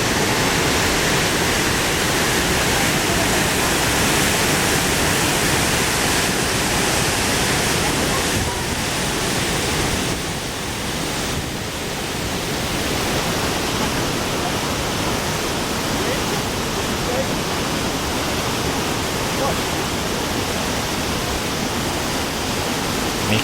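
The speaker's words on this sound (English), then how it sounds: "Waterfall." The Krimml waterfalls roar as a dense, unbroken wash of rushing water, loud and constant throughout with no other sounds standing out.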